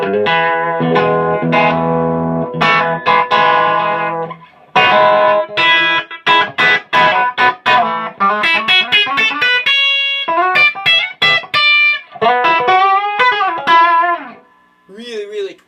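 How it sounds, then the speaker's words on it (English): Electric guitar with its pickups switched out of phase by an S1 switch in the fourth position, giving a thin, twangy tone; a series of picked notes and chords ring out clearly alone, with short pauses between phrases. "you flick on the S1 switch, and then it puts them out of phase, and you get that."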